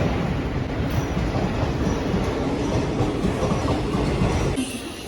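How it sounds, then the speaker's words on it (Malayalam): An intercity express train bound for Coimbatore comes into Tirur station, a loud continuous rumble with rhythmic clattering wheels and faint squeals, easing off slightly at the very end. "അപ്പോൾ നമ്മൾ ട്രെയിൻ വന്നിട്ടുണ്ട്"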